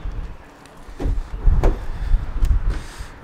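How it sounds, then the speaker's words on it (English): A few dull clunks and thuds from the heavy rear doors of a Ford Transit Custom van being unlatched and swung open, mixed with rustling and low rumbling handling noise, with no voices. "Open up the back."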